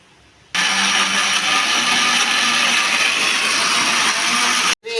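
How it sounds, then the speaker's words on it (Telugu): A kitchen mixer grinder grinding moong dal with cumin, ginger and green chilli starts abruptly and whirs loud and steady for about four seconds, then cuts off. "జీలకర్ర, ఇంత అల్లం ముక్క, పచ్చిమిరపకాయ వేసి మిక్సీ చేస్తున్నాను పెసరపప్పు"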